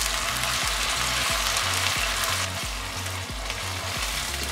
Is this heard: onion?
yes